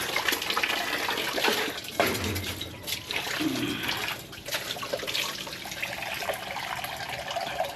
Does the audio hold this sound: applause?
no